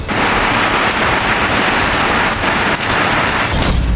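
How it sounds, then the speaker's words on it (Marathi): Heavy unseasonal rain pours down steadily in Jat and Walwa talukas of Sangli district, Maharashtra, in a dense, continuous hiss, loud and close, with no voices. "जत आणि वाळवा तालुक्यात अवकाळी पावसानं हजेरी लावली"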